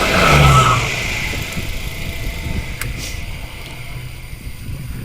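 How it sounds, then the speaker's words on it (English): Bus passing a cyclist on a narrow country road near Burnby, a loud engine rumble that peaks in the first second and fades away, leaving steady wind and road noise with a couple of faint clicks. "Oh, there's a bus."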